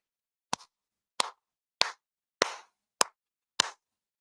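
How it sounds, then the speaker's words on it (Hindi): Six sharp hand claps, evenly spaced about 0.6 seconds apart, loud and close with nothing else around them, made by a political commentator on a Hindi news segment. "मैंने ये ताली क्यों बजाई?"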